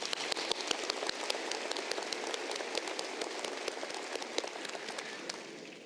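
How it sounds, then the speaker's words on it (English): Sustained applause from a commencement audience at Arkansas Tech University, honoring the Board of Trustees: steady, dense clapping from a large crowd, fairly distant and even throughout, tapering slightly at the end. "let us give our Board of Trustees a round of applause"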